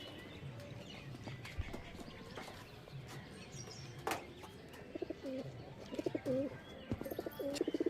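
Punjabi Malbai pigeons at a home loft give soft, repeated cooing calls, growing more frequent toward the end over a steady backdrop of outdoor noise, with a few sharp knocks.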